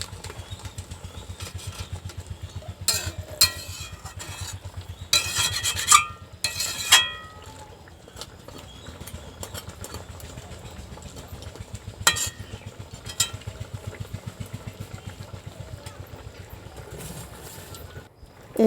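Spices and ghee being stirred and scraped in a pan for spicy Bengali crab curry, with bursts of rasping metal-on-pan scraping over a steady low engine-like hum in the background.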